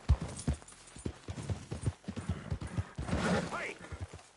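Horse hooves in Red Dead Redemption 2, with a rapid, rhythmic clip-clop of galloping close by and a voice briefly talking over it.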